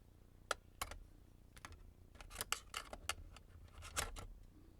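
Scissors snip paper being trimmed for an altered book, a series of quiet, close, irregular crisp cuts and rustles with short pauses between them.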